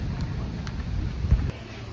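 Monsoon rain in Matheran, a dense wash of falling rain with a low rumble and a sharp thud near the end, fairly close and without voices.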